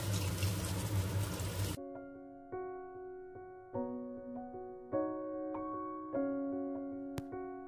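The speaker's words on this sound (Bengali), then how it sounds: "এবার তেলটা গরম হওয়ার পর একটা একটা করে এই বলগুলো আমি ভেজে নিচ্ছি।" Potato cheese balls deep-frying in hot refined oil make a loud, dense sizzle for the first couple of seconds, then give way to gentle background music.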